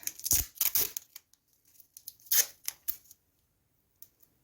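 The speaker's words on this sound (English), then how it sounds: "This is just masking tape." Masking tape being pulled off its roll in a few short tearing rips, close and crisp, followed by softer handling sounds and quiet gaps.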